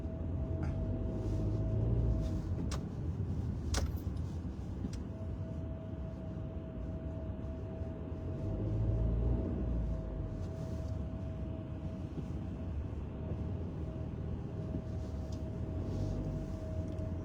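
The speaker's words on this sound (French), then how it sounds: "La circulation..." Steady road traffic rumbles past on a morning drive, a continuous low broadband roar that swells and eases as vehicles go by, with a faint constant tone running through it and no talking.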